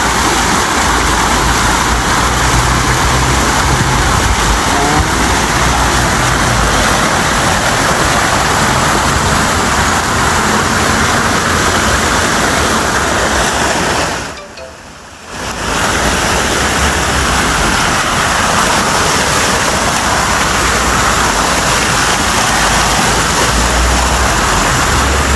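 Vehicles pushing out through floodwater in Benguet, a loud continuous wash of rushing water and engine rumble that dips briefly mid-way before resuming, dense and close.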